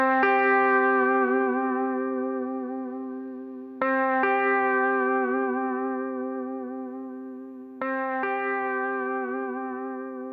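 Sustained guitar chord through a Valeton GP200 with a 4-second delay rings out and slowly fades, then repeats twice at long, even intervals as distinct echoes of the same strum.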